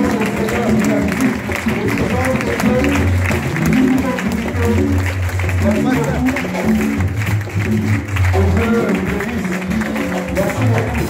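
A church congregation clapping and cheering together in praise at the end of a conference, a dense continuous roar of applause mixed with many voices and music-like tones, loud and sustained throughout.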